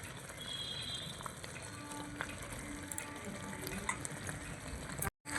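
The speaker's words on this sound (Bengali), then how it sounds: "গরম মশলাটা দিয়ে মিশিয়ে নিচ্ছি" Garam masala is stirred into a dish in a frying pan, with a steady close sizzle and faint scraping of stirring throughout, ending in a brief cut to silence.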